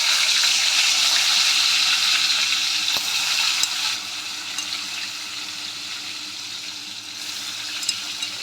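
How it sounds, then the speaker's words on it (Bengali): Pointed gourd (potol) frying in hot oil, a steady loud hiss and sizzle throughout that eases slightly partway, with a faint click near the middle. "এবার আমরা পটলগুলো ফ্রাই করে নেব।"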